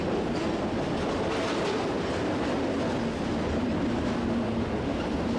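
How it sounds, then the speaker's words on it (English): A Union Pacific container train passes close by in Wyoming or Nebraska, producing a loud, continuous rumble with rhythmic clickety-clack from the wheels and no voices. "These container trains are looking very much like what we see out east."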